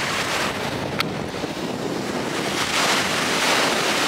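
Ocean waves wash onto a Zanzibar shore in a constant broad roar, mixed with buffeting wind noise on the microphone and no voices.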